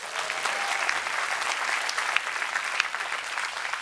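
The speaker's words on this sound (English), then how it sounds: "Round of applause for our 2 volunteers." A TED conference audience claps for two volunteers coming up to the microphones, giving steady, dense applause with a few sharper individual claps standing out.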